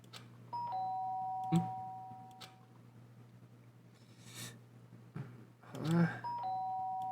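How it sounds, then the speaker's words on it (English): A doorbell in the Danganronpa video game rings two times, each a sharp ding-dong chime that stands out clearly against a quiet, low-humming room background. "That sharp sound of the doorbell pierced my sleepy haze and pulled me back into the real world."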